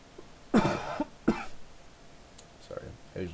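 Two short, sharp coughs come close together near the mic, followed by a quieter throat-clearing sound and some faint voice noise afterward.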